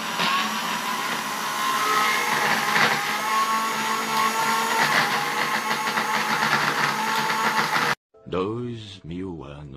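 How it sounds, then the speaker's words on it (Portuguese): A blender whirs loudly and steadily for several seconds while blending banana ice cream, then cuts off abruptly and a person starts talking. "Eu bati por 10 minutos, mas não direto, porque senão o liquidificador queima."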